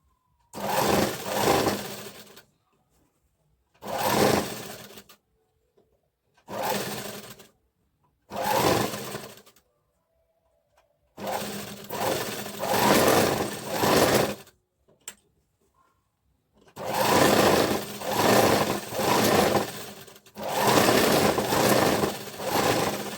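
A sewing machine stitches a blouse in a series of loud, close bursts of fast whirring, separated by short silent pauses and ending in longer continuous runs.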